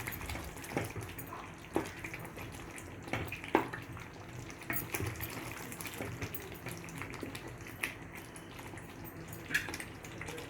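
A spoon stirs chicken kofta curry and fried potatoes together in a pot, making soft scraping and clinking knocks at an uneven pace, fairly quiet and close, with no voices.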